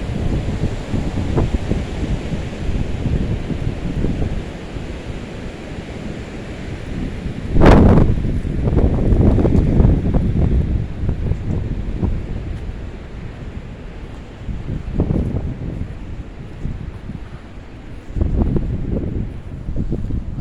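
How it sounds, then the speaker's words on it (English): Strong wind gusts roar through pine trees in a cemetery. The rush surges, eases and swells again in broad, blustery waves, loudest in a heavy gust partway through, with no voices. "So we're gonna wait till this wind blows"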